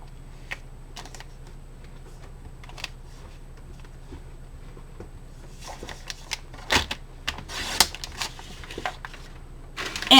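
Paper being cut to size for a card-making project: small dry clicks and taps at first, then a few sharp, crisp slicing bursts close by, with no talking.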